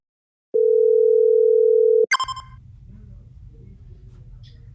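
A steady, loud telephone dial tone sounds for about a second and a half, cuts off with a click, then faint line hiss continues.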